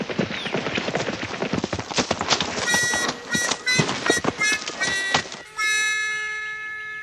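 Hooves clip-clop at a brisk, busy pace for a donkey in a comic radio-drama horse race, loud and close, with background bustle before a sustained tonal chord rings out near the end.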